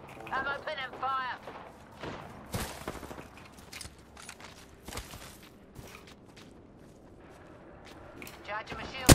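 Gunfire rings out in a video game shooter, several sharp bursts and shots of varied loudness mixed with footsteps, while a player talks over the action.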